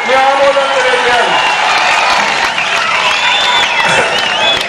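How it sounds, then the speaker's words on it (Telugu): A large crowd at a political rally in Ongole claps and cheers loudly and continuously, dense applause filling the whole stretch with a steady roar and shouts rising over it. "గట్టిగా చప్పట్లు కొట్టి మీ ఆమోదం తెలియజేయాలి."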